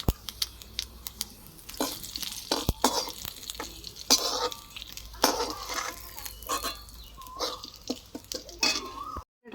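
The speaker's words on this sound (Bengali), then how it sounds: "এখন একটু জিরে ভেজে নিচ্ছি।" Cumin seeds fry in a pan on a home stove for a fish curry, with a soft sizzle under repeated sharp clinks and scrapes of a utensil against the pan.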